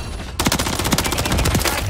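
A sustained burst of rapid automatic fire from a Scorpion Evo submachine gun in Call of Duty: Modern Warfare 3 (2023) multiplayer, loud and close, kicking in abruptly after a short quieter lead-in.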